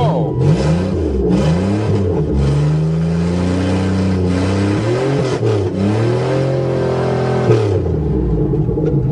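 A GM Buick Regal engine, just repaired after a no-start fault, runs close and loud, with revs sweeping up and down in several smooth rises and falls over a steady rumbling idle.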